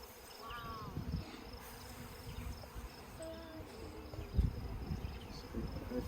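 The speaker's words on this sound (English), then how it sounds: "More bees." Honey bees hum and buzz around an open hive frame with brood, larvae and sugar syrup in the corners during a nuc installation in Michigan's Upper Peninsula, a soft close drone with a few louder bees passing near and light handling noise.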